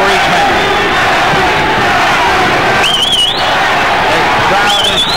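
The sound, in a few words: boxing crowd shouting a fighter's name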